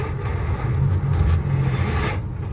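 A Peterbilt semi tractor-trailer engine holds a steady, heavy low rumble close by, with no clear rise in revs and no voices.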